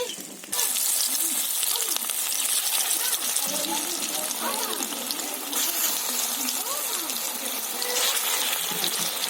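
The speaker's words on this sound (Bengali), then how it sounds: "তেলটা গরম হয়ে গেছে এবারে যে মিশ্রণটা আমি তৈরি করেছিলাম সেগুলো থেকে এইরকম দেখুন বড়ার আকারে এগুলো দিয়ে দিচ্ছি" Drumstick flower and prawn pakora batter dropped into hot oil, a loud, dense, continuous sizzle and bubbling that starts abruptly and holds steady, with a voice talking over it.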